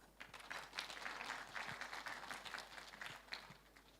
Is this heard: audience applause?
yes